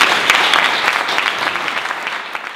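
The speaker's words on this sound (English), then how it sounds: "let's give a warm applause to all the presenters" An audience at a Brussels data science community meetup applauds the presenters, a loud, dense burst of clapping that fades slightly over a few seconds with no speech.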